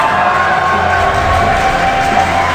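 A dense, loud crowd at a Dota 2 esports tournament cheers continuously for Cloud9, a sustained roar of many voices in a large venue without breaks.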